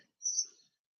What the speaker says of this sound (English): there's all these amazing birds in the background